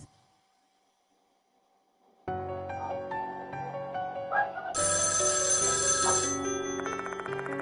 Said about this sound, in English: The phone's ringing. Gotta answer it.